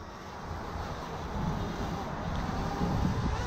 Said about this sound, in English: every time I do review, it's always windy.